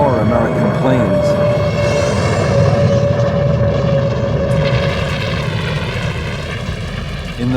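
Military jet aircraft from the Korean War era roar in flight, a loud, continuous engine drone that stays strong throughout and eases slightly toward the end.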